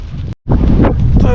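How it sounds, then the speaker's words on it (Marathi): Strong wind buffets the microphone aboard a small fishing boat out at deep sea for pomfret near the Bandra-Worli Sea Link, a loud steady roar broken by a brief dropout, with light rain around. "मित्रांनो बघू शकता एकदम वारा वाढलेला आहे"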